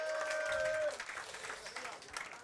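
Audience at a summer club festival applauds a pop singer, a dense patter of clapping that carries on steadily after a held sung note fades in the opening second.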